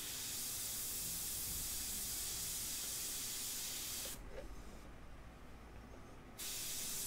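An airbrush sprays ink onto a portrait painting with a soft, steady hiss that briefly drops to a quieter hiss partway through, then resumes at full strength.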